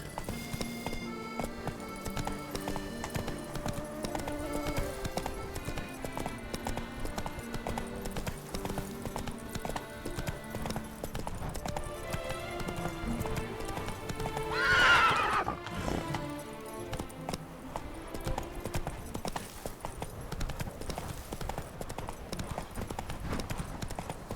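A horse in The Witcher 3: Wild Hunt gallops with fast, steady hoofbeats over in-game music, then gives a clear whinny midway through.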